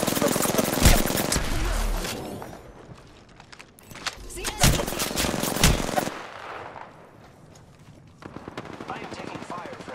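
Loud bursts of automatic gunfire in a battle royale video game, with rattling volleys that stop and start and then fade to scattered distant shots, while a voice is faintly present.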